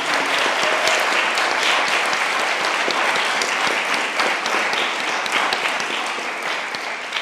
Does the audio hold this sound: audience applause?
yes